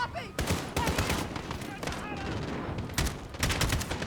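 Rapid gunfire in Call of Duty: Modern Warfare, a dense run of sharp loud shots and bursts at close range, with a voice speaking over the shooting.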